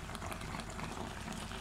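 Port Said-style crabs cook in a pot with little water left, giving a steady, close, continuous bubbling and sizzling without any talking.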